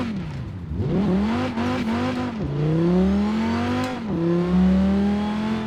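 A V8 car engine in Forza Horizon 4 revs up repeatedly, each climbing pitch broken by a quick shift and then rising again, loud and close with no talk.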